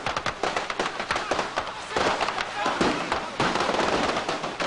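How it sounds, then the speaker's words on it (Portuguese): Repeated explosions at a store crackle and pop in rapid, dense bursts, loud and sharp like fireworks going off in quick succession, with voices audible underneath. "Um cinegrafista amador registrou o momento das explosões."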